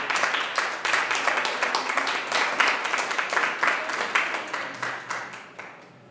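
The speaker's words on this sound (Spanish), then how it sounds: "Dale un aplauso al Señor." A church congregation claps in a steady rhythmic beat, fairly loud and close, the clapping thinning out and fading at the end.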